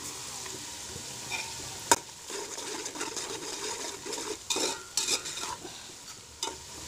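Caraway seeds sizzling in hot oil while being stirred, a steady frying hiss broken by sharp spoon scrapes and clinks against the pan, close up with no talking.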